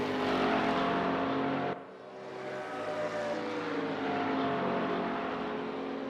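A Bentley and a McLaren race car roar along a track in a racing video game, a loud, steady engine drone with a brief dip before it builds again as the cars keep driving.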